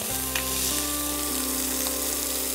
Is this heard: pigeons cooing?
no